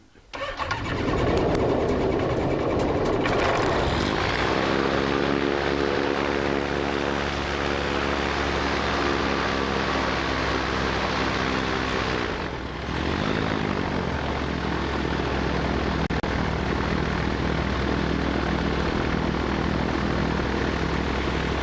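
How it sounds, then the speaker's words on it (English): A Rotax 912S engine on a Zenith CH701 aircraft cranks and catches, then settles into a loud, steady propeller-driven roar that continues close throughout, with a brief dip partway and faint voices underneath. "So I'm giving it choke, just a touch of throttle, and then I'm going to go ahead."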